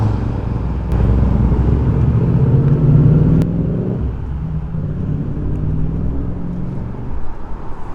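An enduro motorcycle rumbles loud and close as it takes a jump bridge near Ramsey on the Isle of Man TT course, with a deep engine drone that swells and then settles.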